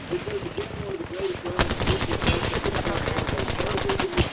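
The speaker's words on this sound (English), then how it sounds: "Taking shots. Opening fire." Rapid automatic gunfire in Apex Legends bursts in after a lighter opening and continues as a loud, fast, even stream of shots, with a voice over it.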